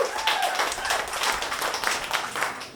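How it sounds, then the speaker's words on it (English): A small café crowd claps for a live band's first set, a moderate patter of hands that holds fairly steady over a few seconds. "Please give another round of applause for their first set"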